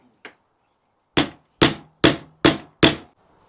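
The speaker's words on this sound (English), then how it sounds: "the only way I think to do this is with a screwdriver and a hammer" Sharp metallic blows of a hammer striking a screwdriver on a Honda GL1200 fuel pump, one light tap and then five firm strikes in a steady rhythm, close by with quiet gaps between them.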